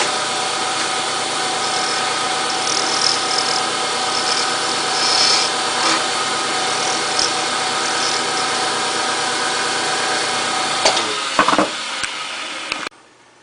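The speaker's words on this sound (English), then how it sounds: "I've got it sanded or turned down to pretty much the shape I wanted, and I've started sanding it." Sanding a turned wooden fountain pen section, a steady close abrasive rasping that runs continuously with a machine hum beneath, ending in a few sharp knocks and clatters before it stops.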